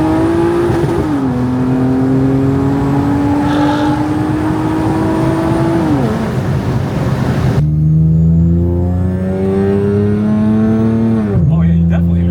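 Boosted Acura TL-S engine with a new intake pulling hard on throttle, a loud, steady drone that climbs in pitch, dips at a shift, then surges again with rising harmonics, close to the microphone.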